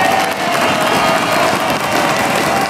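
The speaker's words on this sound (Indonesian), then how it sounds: "Tepuk tangan yuk untuk Haris dan juga Rida." Dense crowd applause and cheering for two dancers, Haris and Rida, at a village event in Garut, a loud, continuous wash of clapping filling the whole moment.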